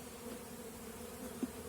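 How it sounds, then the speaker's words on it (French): Honeybees from a swarm in a birdhouse buzz steadily close by, a continuous low drone with one brief louder swell near the end. "J'ai plein d'abeilles sur les mains."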